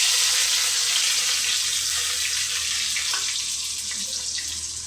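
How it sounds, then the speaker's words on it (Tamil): Ingredients frying in hot oil with mustard seeds and cumin for a beetroot rice dish, a steady loud hissing sizzle that fades slightly over a few seconds, with no one talking. "3மே வந்து கொஞ்சம் நல்லா ஃப்ரை ஆகிற வரைக்கும் வதக்கிக்கலாம்"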